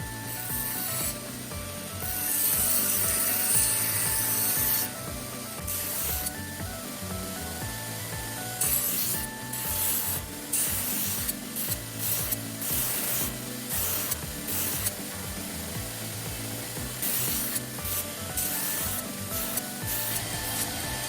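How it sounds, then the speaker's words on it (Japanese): A belt grinder with a 60-grit belt shapes the bevels of a single-edged Ginsan steel Japanese petty knife, giving repeated rasping, hissing grinding passes in uneven bursts with short gaps, close and loud. "60番のベルトで平と切れ刃を作っていきます。"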